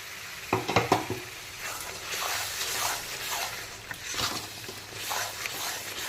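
A fine paste of cashew, poppy seed and melon seed is stirred and sautéed in a pan for chicken vorta, with a soft continuous sizzle, a few sharp spoon scrapes near the start and steady stirring throughout.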